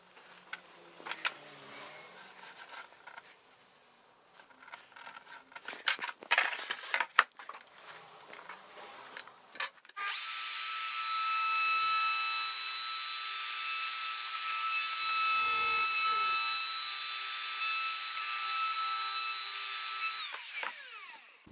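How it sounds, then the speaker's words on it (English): A wood router cutting into timber while a letterbox is fitted: quiet handling and tapping at first, then a sustained high, loud whining cut for about ten seconds that ends as the router winds down. "I'm going to use the router again"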